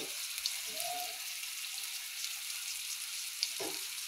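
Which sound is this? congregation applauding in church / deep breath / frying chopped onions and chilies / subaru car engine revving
frying chopped onions and chilies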